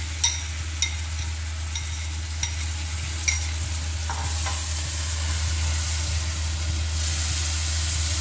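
Poppy seed curry with tomatoes and spices being stirred in a pan, a steady sizzle and hiss throughout with a few sharp spoon scrapes and knocks against the pan, close by and without talk.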